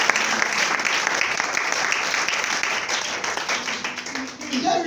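Church congregation applauding to acclaim the Lord during a French-language service: dense, sustained clapping from many hands, loud and steady for the whole clip, with voices mixed in.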